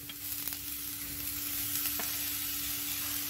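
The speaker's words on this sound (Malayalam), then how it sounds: "ഇനി നമുക്ക് തേങ്ങ ഇതിലേക്ക് ഇട്ട് കൊടുക്കാം." Grated coconut hits a hot pan for dry coconut chutney powder, giving a steady, close sizzle with a few faint stirring scrapes and no voices.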